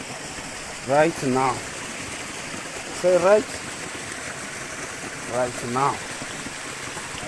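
Steady broadband rush of a waterfall with crystal-cold water falling from above, a constant wash beneath a voice speaking in short bursts.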